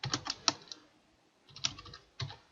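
Keys tapped on a computer keyboard while entering text in an Excel spreadsheet, a few quiet clicks in two short clusters with a pause between, close and isolated.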